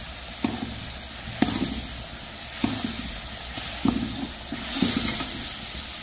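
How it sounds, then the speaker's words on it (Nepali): Grated onion and tomato frying with masala in a pan, a continuous sizzle broken by several stirring scrapes roughly every second, close and fairly loud. "यो चाहिँ अब यहाँ फ्राई हुँदैछ"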